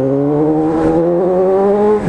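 Honda CB 1000R motorcycle with a K&N air filter and GRS titanium exhaust revving loud and close, a steady engine drone with harmonics rising slightly over two seconds.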